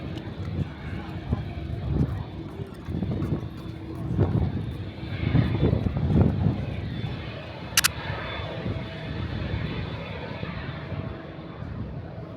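Jet airplane engines at a Japanese airport roar and swell in the distance, heard from a viewing platform, a broad rumbling drone rising and fading, with a brief sharp tone partway through.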